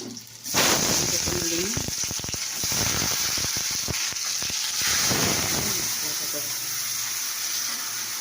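Tomatoes go into a hot pan of fried eggplant, setting off a loud, close sizzling burst that settles into steady frying, with a person talking over it.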